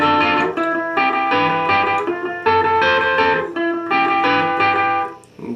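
Distorted electric guitar playing a song's picking pattern, a loud repeating run of picked notes in short bursts with brief gaps, alone without talk.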